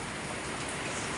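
Steady, even hiss of heavy typhoon rain falling, a continuous wash of noise with no breaks and no voices.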